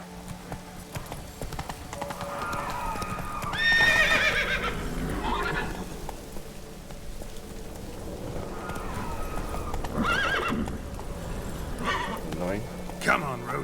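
Roach the horse gallops in The Witcher 3, a steady clip-clop of hooves with a couple of neighs, set against game ambience and voices.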